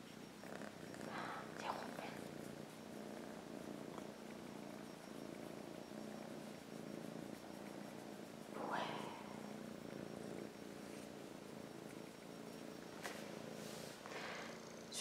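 A tired house cat purrs softly and steadily up close for a long stretch, a faint low rumble with a few quiet rustles and murmurs around it.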